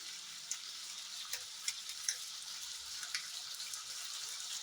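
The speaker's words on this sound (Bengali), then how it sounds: "এবার বেশ কিছুক্ষণ কষাবো। হাই হিট করে দিলাম।" Chicken and masala fry on high heat in a pan, a steady soft sizzle with small crackles and occasional stirring ticks, fairly quiet and with no talk over it.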